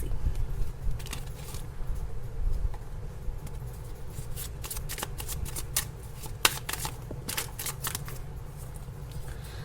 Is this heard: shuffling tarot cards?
yes